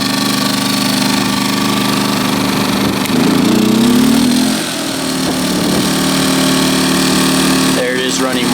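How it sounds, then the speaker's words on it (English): A Champion 2000 W inverter generator drones loudly up close, its engine rising in pitch as it revs up from economy mode to full throttle, then holding a steady high-speed hum, with someone speaking over it. "I'll switch it on to full revs to give you an idea what the sound's like then"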